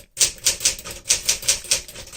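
Keys strike on a 1964 Smith-Corona Sterling manual typewriter in quick, evenly spaced clacks, two runs of about three crisp hits each, loud and close with no voices.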